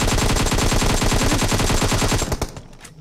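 Rapid automatic gunfire from a Hindi-language shooter video game, loud and continuous bursts hammering for over two seconds before cutting off abruptly into quieter game ambience.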